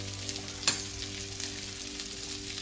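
Garlic sizzling in a pan alongside pasta, a steady close frying hiss with a brief sharper pop or stir clatter early on, continuous and fairly loud with no talking.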